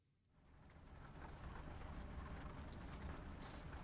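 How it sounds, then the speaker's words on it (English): Steady rain pours in a dense, even hiss that rises quickly from near silence and keeps going, with faint low rumbling underneath and no voices. "listen to the rain"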